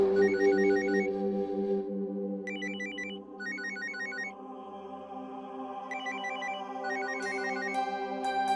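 A mobile phone ringtone chimes in repeated bursts of bright electronic tones over a steady melodic backing, loud and close throughout with no talking.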